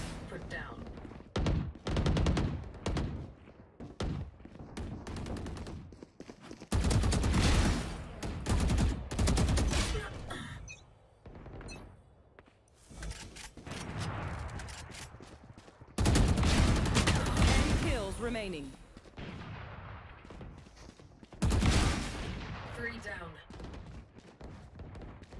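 Vandal rifle fire in the video game Valorant comes in repeated rapid bursts of sharp, loud shots separated by short pauses, with a player talking in between.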